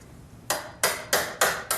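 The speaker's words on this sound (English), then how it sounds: "she chisels out a piece of wood that's the same depth as her hinge" Five sharp, evenly spaced mallet-driven chisel strikes cut a shallow hinge recess into wood, each a loud, close crack starting about halfway through after a quiet lead-in, with no talking.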